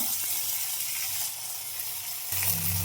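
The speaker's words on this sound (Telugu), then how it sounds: "టమోటా అయితే బాగా వేయించుకుంటున్నా." Tomatoes frying in a pan with ginger-garlic paste and slit green chilies, a steady soft sizzle throughout with a brief louder burst near the end, no voices.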